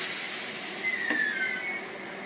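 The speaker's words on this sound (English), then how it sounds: "as the train comes around, then struggles to get around, you can hear it going screech, screech, screech" A train's wheels screeching as it struggles around a curve: one thin, high, sustained squeal that rises over a steady rumbling roar of the passing train, fairly loud and close, with no talk.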